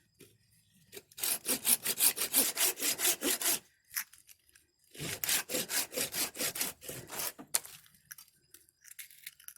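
Rhythmic hand-saw strokes cutting through sticky, resinous fatwood found on the ground in Michigan, two runs of quick back-and-forth rasping with a pause between, close and loud with no talking.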